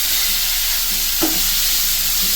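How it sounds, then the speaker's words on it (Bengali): Onion frying in fish fat as it melts down in the pan, giving a loud continuous sizzle with a single stir or scrape near the middle and no one speaking. "এটা ভাজতে ভাজতে এটার তেলটাই পুরো গলে যাবে, আর পেঁয়াজটাও ভালো করে ভাজা হয়ে যাবে"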